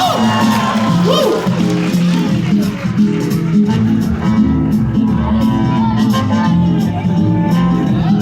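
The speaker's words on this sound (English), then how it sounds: "it's a round of applause" Crowd cheering and applause at a magic convention show in the Maldives, with whoops and shouts over music and nearby voices, loud and sustained throughout.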